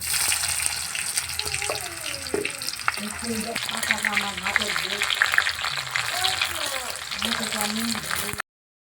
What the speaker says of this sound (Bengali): তেল গরম হয়েছে, এর মধ্যে শুকনো লঙ্কা আর পেঁয়াজ দিয়ে দেবো ফোড়ন।